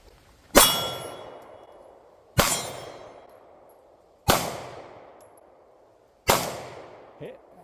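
Four evenly spaced shots from a Beretta APX A1 Carry pistol ring out at an outdoor range, each a sharp crack followed by a bright metallic clang off a steel target, with a long fading ring after each.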